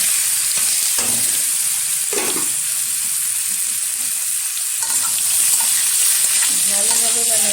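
Boiled jackfruit and potato pieces are stirred in hot oil in a pan, a steady loud sizzle with occasional scraping clatters from the spoon, continuing throughout without talk.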